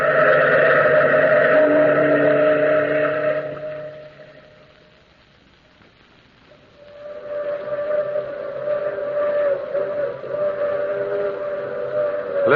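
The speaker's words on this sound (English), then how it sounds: "That's the long, moaning whistle of the through express, wailing through the lonesome night" A long, moaning steam train whistle wails in sustained tones, fades away briefly, then returns with another drawn-out blast.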